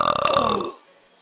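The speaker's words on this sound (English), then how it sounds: "Here comes another burp." A loud, drawn-out burp with a rough, rattling start that fades after about two-thirds of a second, heard alone with no talk.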